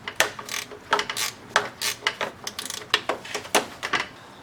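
Bolt being threaded and tightened on the power steering pump of a 1997 GMC Sonoma, heard as close, irregular ratchet clicks and metallic ticks in short bursts with no talking.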